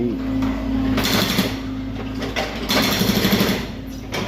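A small excavator drills the ground to lay a water pipe at a market, a loud, steady mechanical chatter with rapid rhythmic pounding that surges and eases over the engine's hum.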